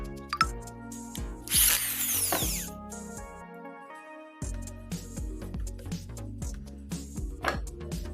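A power drill bores pilot holes for screws in a wooden frame for a homemade mosquito killer, with several short whirring bursts and ratcheting clicks, the motor starting and stopping close by with brief pauses between holes.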